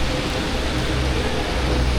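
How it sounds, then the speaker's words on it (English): Super heavy rain pours down on a very rainy day in Jiefangbei, a loud, dense, unbroken roar of broadband noise with no gaps or talk. "It's super heavy rain, friend."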